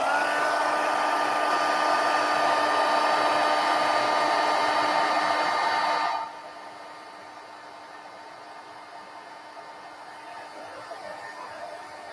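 A heat gun warms embossing powder on a handmade card, a steady loud blowing whir for about six seconds that then cuts off, leaving faint room noise.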